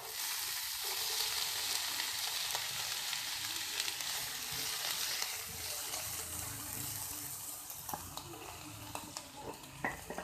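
Onions frying in a pan for a Chinese-style egg dish, a dense continuous sizzle close by with occasional stirring clicks, steady and fairly loud.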